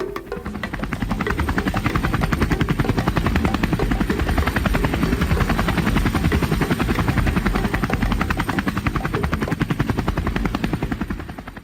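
Helicopter rotor thumps beat rapidly and steadily throughout, a loud, continuous chopping drone with no voices.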